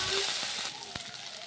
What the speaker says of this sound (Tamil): இதையும் சேர்த்து நல்லா பச்சை வாசம் போகிற அளவுக்கு நல்லா வதக்கி விடுங்க.